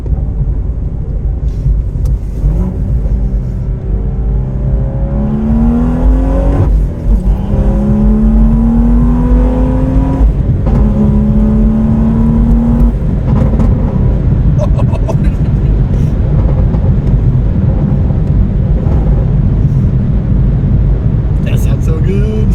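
A sports car engine revs up and accelerates close by, rising whine with deep rumble, while people talk over it inside the cabin.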